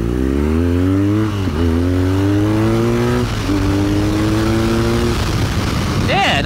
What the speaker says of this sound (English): a little acceleration test on the old R9T